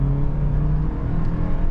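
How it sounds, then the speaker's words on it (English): Steady low engine hum and rumble inside a 2025 Toyota Land Cruiser hybrid as the engine kicks on, a continuous drone at close range with no voices. "you can slowly just feel the engine kick on when you need some power"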